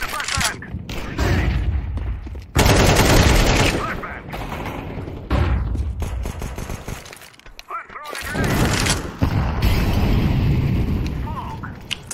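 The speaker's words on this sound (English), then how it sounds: "I'm throwing a flashbang." Flashbang grenade going off in Counter-Strike 2 amid bursts of rapid gunfire and sharp blasts, loud and chaotic, with players talking over the action.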